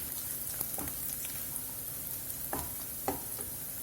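Chopped onions and a dry red chili fry in a pan with a steady, close sizzle, broken by a few soft stirring scrapes.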